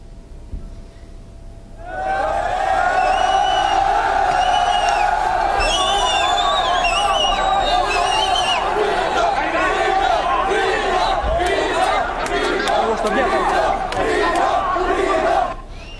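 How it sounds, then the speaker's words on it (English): Large crowd of refugees chanting outside Budapest's main train station, a dense roar of many voices rising abruptly after a quieter opening and staying loud and sustained, with rhythmic shouted surges throughout. "The crowd chanted Germany, Merkel, and we want to leave"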